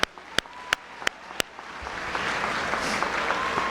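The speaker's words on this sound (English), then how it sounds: "so let's give them a hand of applause." A few sharp, separate claps ring out, then a wash of steady clapping builds and carries on from a crowd at a high school graduation, a little distant.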